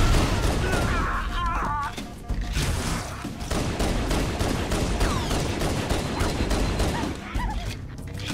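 Rapid gunfire and bursts from Halo Master Chief Collection fill a dense, loud firefight, with repeated shots and thumps and a player's voice talking over the action.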